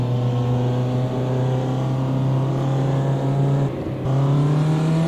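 Ginetta G40 race car engine in Automobilista 2 at Monza, a loud steady droning whine rising gradually in pitch under acceleration, with a brief dip at a gear change before climbing again.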